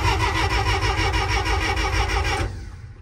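A $500 street sweeper's engine cranks and catches, running loud and steady with a rhythmic pulsing chug for over two seconds before dropping to a quieter rumble as it settles.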